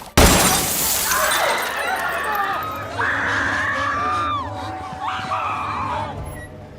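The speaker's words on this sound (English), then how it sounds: "puts some empty glass bottles inside a deep fryer" Empty glass bottles in a kitchen deep fryer burst with a sharp loud crash, followed by ringing, scattering debris and high shrill cries or screams over a rumbling background.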